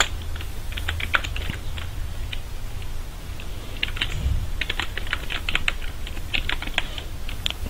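Code is typed on a computer keyboard in quick bursts of close, crisp key clicks with short pauses between runs.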